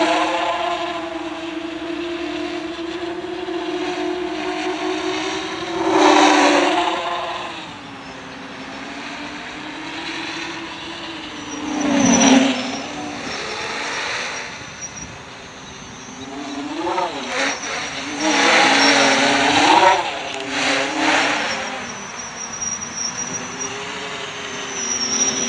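Quadcopter motors spinning 7 inch props on a Q-Brain ESC give a steady, loud drone that swells and dips in pitch as the throttle changes, with a few sharper surges, and nobody talks.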